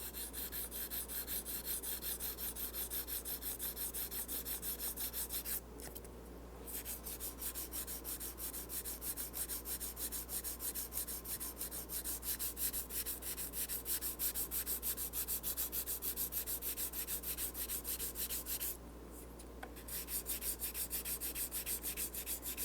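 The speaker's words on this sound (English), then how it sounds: "take your corian block, wrap some 800 grit dry sandpaper around it, and sand it level." Steady dry sanding of a guitar finish, 800 grit paper wrapped around a Corian block, a continuous close rubbing rasp running unbroken apart from two brief pauses.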